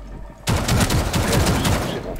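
Rapid bursts of automatic gunfire in the Rainbow Six Siege video game, a loud, dense rattling volley starting abruptly and continuing for nearly two seconds with no voices.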